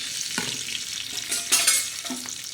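Green chillies frying in a pan, a steady hiss and crackle broken by a few louder sizzling bursts and stirring scrapes, close and with no voices.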